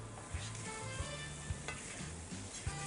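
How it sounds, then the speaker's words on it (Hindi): Onions fry in a pan with a soft steady sizzle, while a spoon stirs and taps at a regular rhythm about twice a second, quiet and close, with no speech. "साथ साथ प्याज को भी हिलाते रहें"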